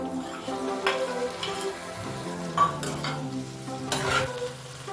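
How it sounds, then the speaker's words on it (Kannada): Chopped tomatoes frying with onions in a pan for palak dal, a steady soft sizzle with occasional spoon scrapes and stirring clatter, close and continuous with no talking. "ಟೊಮೆಟೊ ಮೆತ್ತಗಾಗೋವರೆಗೂ ನಾನು ಫ್ರೈ ಮಾಡ್ತಾ ಇದ್ದೀನಿ."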